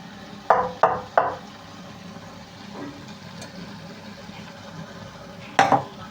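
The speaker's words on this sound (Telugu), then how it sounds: "కారం అయితే వేసాను ఇదైతే కలిపేసుకున్నాం" Spatula strokes knock against a pan while eggplant and drumstick curry with chili powder is stirred, a few sharp taps close together, then quiet, then another pair over faint sizzling.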